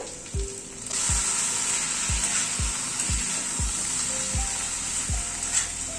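Chicken and lentils sauté in an uncovered pan with a constant bright sizzle, punctuated by a run of regular low scraping strokes as the mixture is stirred.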